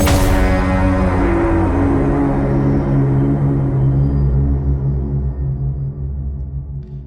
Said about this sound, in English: So we start out with just listening to the full signature sound here.